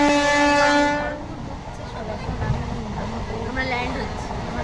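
Train approaching Kharagpur station, a loud sustained horn blast up close that cuts off, followed by a steady rolling rumble with faint voices in the background.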